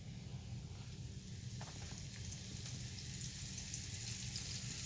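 A turkey cutlet dredged in flour fries in hot oil, giving a steady, fairly quiet sizzle that holds even throughout with no voices.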